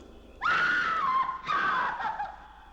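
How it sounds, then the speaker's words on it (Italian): A loud, high-pitched scream that wavers and breaks into a second shrill cry, fairly close and with no talking around it. "Ma non hai sentito l'urlo?"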